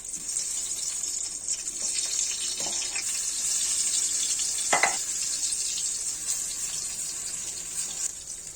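Eggplant slices dropped one at a time into hot oil, potatoes just fried before them, give a steady, fairly loud hiss and sizzle with a couple of brief bursts as pieces go in.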